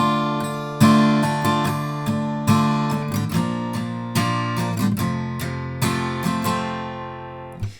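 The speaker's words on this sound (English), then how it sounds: "if we want to strum the chords in the verse and give it a bit more feel" Strummed acoustic guitar chords from a song ring out in a steady rhythm, each strum sharp at the start and fading before the next, played alone up close.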